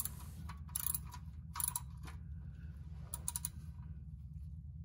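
A ratchet tightens the oil drain plug on a fifth-generation Toyota 4Runner, giving several short bursts of quiet clicking with pauses between them.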